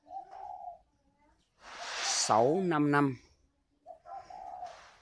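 Purebred turtle doves coo close by, one drawn-out rolling call in the middle between short bursts of someone talking and some rustling.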